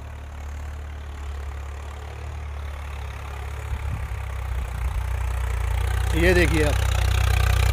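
Swaraj 855 4x4 tractor engine running in high gear with four-wheel drive engaged, a steady low rumble that grows slightly louder toward the end while someone talks over it.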